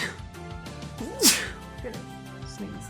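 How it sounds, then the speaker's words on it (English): A single sharp sneeze bursts out close by partway through, amid casual conversation in a room with background noise. "Sneeze."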